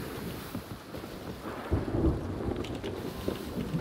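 Rolling thunder from a storm at sea in Sea of Thieves swells in midway over steady rain, a low rumble that builds and lingers, with no voices.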